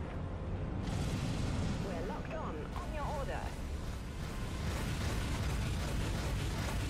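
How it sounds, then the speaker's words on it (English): Missiles launching and exploding in the video game Dreadnought, a dense roaring wash of booms and rumbling blasts that continues throughout, with a voice talking over it. "Firing missiles. Missiles out."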